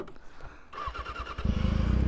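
A Kawasaki ZX6R motorcycle engine cranks briefly and fires up, settling into a loud, steady idle close by with no talk over it.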